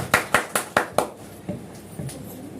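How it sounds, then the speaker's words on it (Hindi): A few people clap at a Teej festival function, starting with five sharp, evenly spaced claps. Softer, scattered claps follow and fade out over the next second or so. "एक जोरदार तालियां सबके लिए"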